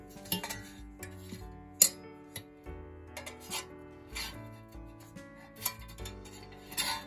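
A SOTO ST-310 burner is fitted into a titanium windscreen table, giving a series of light metallic clinks, ticks and taps at irregular intervals, close by and fairly quiet, with no voices.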